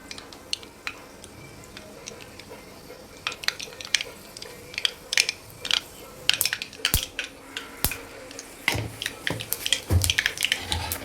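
Mustard seeds and cumin crackling in hot oil in a home kitchen, a faint scatter of quick sharp pops and ticks that grow denser toward the end, with no talking.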